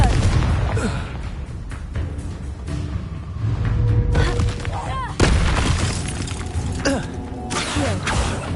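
Repeated Confringo blasting-curse explosions in the Hogwarts Legacy video game, a dense, loud burst of booms and crackling debris with a sharp hit near the middle, layered over game music and shouted spell calls.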